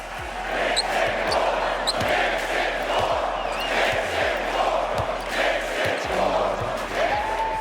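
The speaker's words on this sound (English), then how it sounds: "Take a listen to the final seconds what the MSG crowd was chanting." Madison Square Garden crowd at a Knicks playoff game, a dense, loud arena roar with rhythmic chanting swelling across the whole stretch, scattered sharp thumps and cheers mixed in.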